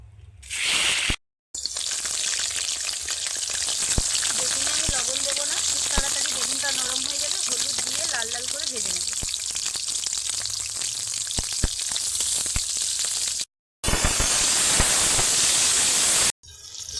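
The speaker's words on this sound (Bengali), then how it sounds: "প্রথমেই বেগুনগুলো দিয়ে ভেজে নেবো" Eggplant pieces fry in a generous amount of hot oil for an eggplant curry, giving a steady, loud sizzle and hiss with brief cuts in the middle and near the end, and a faint voice underneath.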